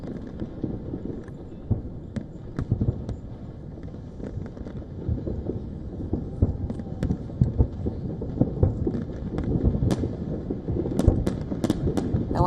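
Fireworks bursting over New York City on Independence Day, a steady run of distant booms and crackles rolling under a dense low rumble with a few sharper pops near the end.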